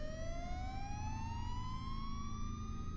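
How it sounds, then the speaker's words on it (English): Police car sirens wail from a distance, a faint rising tone that sweeps steadily upward with no voices present. "Minutes later, I could hear police sirens."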